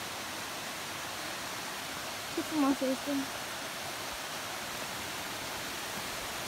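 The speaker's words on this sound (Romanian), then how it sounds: "aici mai este o cascadă." A waterfall in the Nera Gorge rushes in a steady, broad wash of white noise, constant and fairly close, while someone briefly speaks over it partway through.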